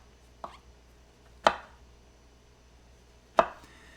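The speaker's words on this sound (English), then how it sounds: "let's just go ahead and keep chopping" A knife chops mushrooms on a cutting board: three separate, sharp thunks spaced irregularly, close and clear against a quiet background.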